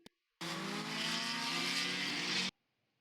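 A vehicle skids loudly at an off-road bash, with a sudden roar of engine and tire noise that lasts about two seconds and then cuts off sharply into quiet.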